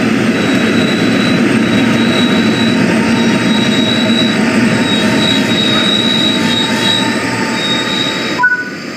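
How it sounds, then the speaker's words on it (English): A train in Train Sim World 6, a cab car service, rolls with steady rail rumble and a faint high wheel squeal that fades as it brakes to a stop near the end, without any talk. "Bring the train to a stop now by applying the train brake."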